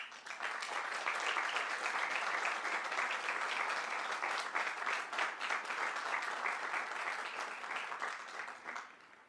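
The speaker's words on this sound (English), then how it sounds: "I know that your parents and the faculty present today would appreciate your recognition" Sustained applause from a commencement ceremony audience fills the hall, a dense, even wash of many hands clapping that holds steady throughout and only begins to thin slightly at the very end.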